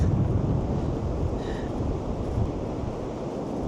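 Steady wind buffets a microphone outdoors on a windy, cold day at Presque Isle State Park, making a continuous low rumbling roar throughout with no speech.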